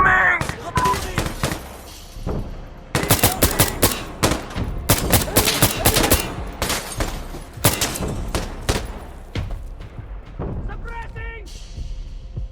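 MK18 CQBR rifle fire in Insurgency: Sandstorm, loud bursts of rapid shots with dense volleys and gaps, mixed with distant gunfire and shouted voices throughout.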